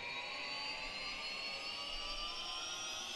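Turbine engine of a Microsoft Flight Simulator aircraft spooling up after fuel is engaged, a faint, steady high whine that slowly rises in pitch with no talk over it.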